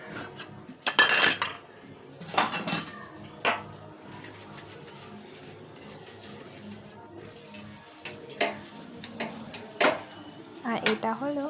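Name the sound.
cleaning nonstick wok lid and dishes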